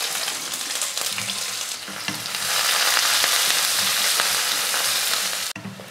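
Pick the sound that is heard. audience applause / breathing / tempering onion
tempering onion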